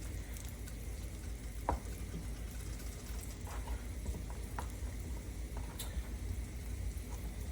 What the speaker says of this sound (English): these are going to pan fry until they're a little browned